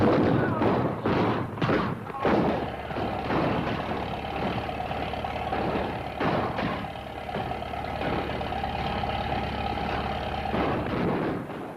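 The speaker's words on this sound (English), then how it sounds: "What's all that racket? Sounds like gunfire." A rapid series of sharp bangs and booms, like gunfire and cannon shots, over a constant rumbling engine drone, with scattered voices in the background.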